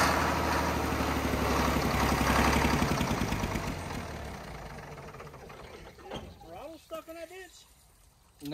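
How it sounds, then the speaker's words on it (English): Engine of a 1948 vintage bus, abandoned for 25 years and leaking oil, running rough on starter fluid with a loud, dense rumble that fades after several seconds, with voices talking over it near the end. "No, it's running off starter fluid."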